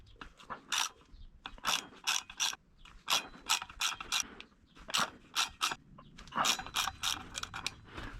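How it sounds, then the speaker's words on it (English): A ratchet loosens the five brake disc retaining bolts on a Yamaha YZF R125 front wheel, sounding as close, quiet bursts of rapid clicking repeated steadily in short strokes. "Now you can loosen off these 5 disc retaining bolts whilst the wheel is on the bike"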